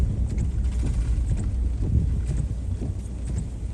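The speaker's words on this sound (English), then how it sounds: "It's windy." Gusty wind buffets a mountainside during heavy rains on the California coast, a steady broadband roar with rumbling microphone buffeting and no speech, loud and continuous throughout.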